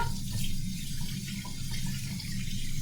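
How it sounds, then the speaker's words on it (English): Warm tap water runs steadily into a kitchen sink while hands are washed with soap, a continuous soft splashing stream at close range with no talking. "I'm going to obviously immediately wash my hands with soap and water."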